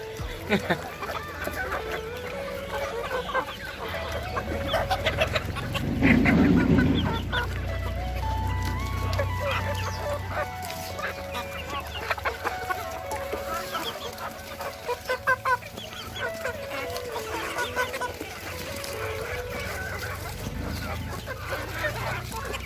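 Chickens cluck steadily and busily up close while eating quickly, a dense overlapping chatter from several birds with occasional louder squawks.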